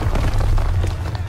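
A Call of Duty WWII air support strike explodes as a dense, continuous low rumble with scattered crackling bursts, loud and sustained across the whole moment with no clear voice over it.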